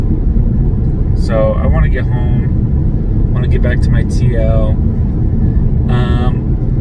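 A rental 2020 Ford Fusion produces a steady low road rumble and tyre noise while cruising, with someone talking over it.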